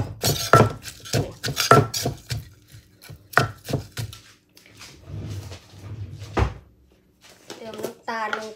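Green mango salad with shrimp paste is pounded in a mortar, a run of sharp, close knocking thuds in uneven bursts, with someone talking between and over the strokes.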